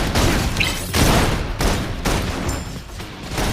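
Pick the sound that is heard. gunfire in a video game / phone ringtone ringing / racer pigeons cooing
gunfire in a video game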